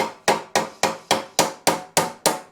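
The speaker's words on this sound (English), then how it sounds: "try and use the normal hammer without bruising the hell out of it." Eight evenly spaced, ringing blows from a regular hammer on a Suzuki GSX1100 Turbo motorcycle part, each loud, close and sharp with a short decay, keeping a steady rhythm and no voices.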